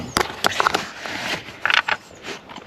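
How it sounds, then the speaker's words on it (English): Socket wrench working a 10mm bolt in the fuse box area of a 2014 Mercedes-Benz A-class, a few short close metallic clicks and ratcheting scrapes in quick bursts with quiet gaps. "Just need to get a socket on it and then we can use that as our ground feed."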